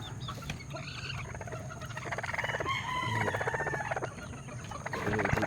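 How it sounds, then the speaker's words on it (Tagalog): A white kelso hen sitting on eggs clucks and calls in a close, steady run of throaty notes, with other chickens faintly audible around her. "Meron tayong hen, white kelso rin siya."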